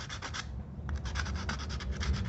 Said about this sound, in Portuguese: tô lixando o núcleo do contator